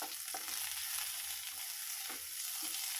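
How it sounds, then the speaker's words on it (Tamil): Chopped onions and curry leaves sauté in a pan with a steady, close sizzle and frying crackle, and faint stirring scrapes underneath. "ஒரு கொத்து கருவேப்பிலை போட்டுட்டு நல்லா வதக்கி விட்டுருங்க."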